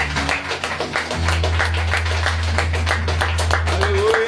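A church congregation claps in praise at a Passover service, a steady rhythmic stream of hand claps over a sustained low organ-like hum, with a few voices beneath.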